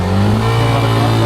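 Motorcycle engine straining on a steep, high-altitude mountain climb, a loud steady droning rev held close and continuous, with no talk.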